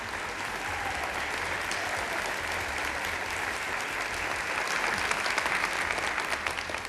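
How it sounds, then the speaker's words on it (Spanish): Sustained applause fills a debate hall in Ponce, a dense, even crowd clapping that swells slightly toward the end, with no voices over it. "ese aplauso es para Ponce, no para mí"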